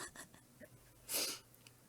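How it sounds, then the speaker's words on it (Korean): A person blows their nose with one short, loud, breathy burst of air near the microphone, preceded by faint scattered noises and no talking. "제 방송에서 왜 코를 푸세요?"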